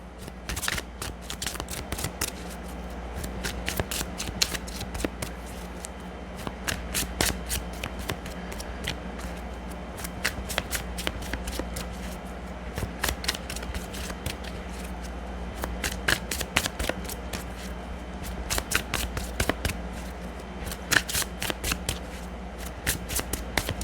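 Oracle cards being shuffled by hand, a long run of crisp riffling flutters and soft taps in irregular bursts, close and fairly quiet, with no talk.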